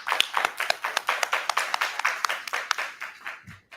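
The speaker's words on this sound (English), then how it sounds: "Please let us give a big hand clap for him." A small forum audience claps to welcome a speaker, a fairly sparse round of distinct hand claps in an uneven rhythm, moderately close and without talk.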